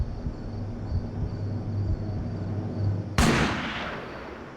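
A single sharp gunshot in a staged crime reenactment cracks loudly after a steady low hum of room tone, its echo trailing off for over a second.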